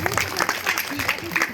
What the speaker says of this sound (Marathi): ओके, तुम्ही टाळ्या वाजवा